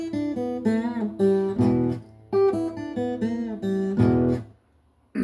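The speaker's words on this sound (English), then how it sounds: "And that lead lick sounds like this." Electric guitar playing the lead lick from a song, a quick run of bent notes and chord stabs in short bursts with brief gaps, fairly close and heard alone.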